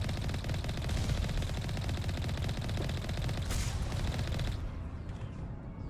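Continuous rapid gunfire in the video game Mass Effect Legendary Edition, loud and dense for several seconds before cutting off abruptly near the end.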